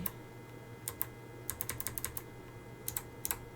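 Arrow keys on a computer keyboard tapped while centering artwork in a digital art program, quiet clicky presses in small irregular clusters over a low background hum.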